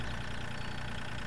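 A tractor engine idles in the video game Farming Simulator 2013, a dense, steady mid-to-low rumble with a slight knocking texture, loud and continuous with no talk over it.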